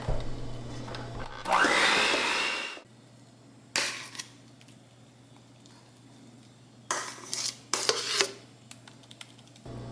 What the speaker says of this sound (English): Now we're just gonna mix it up. Would help if I plugged it in.